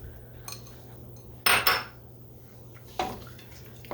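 Frozen green peas being stirred into chicken pot pie filling, with a few sharp clinks and scrapes of a utensil against a pot separated by quiet pauses.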